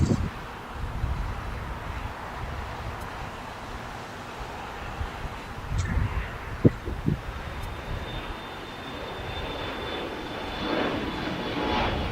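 A jet airliner passing at LAX airport, a broad steady engine roar with wind buffeting the microphone, holding at an even level throughout with a faint rising whine later on.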